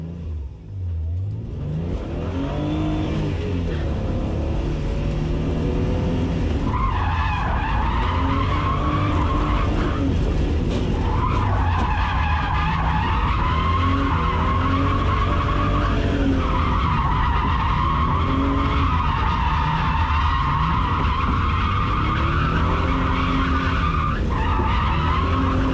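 A drift taxi car sliding sideways with tires squealing continuously, engine revving and whining in rising and falling waves, loud and close from inside the car, with no talk over it.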